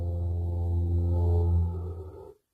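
Michael Jackson's high "hee" vocal sample from Billie Jean pitched down three octaves into a deep, droning hum with stacked low harmonics, held steadily for about two seconds before fading out.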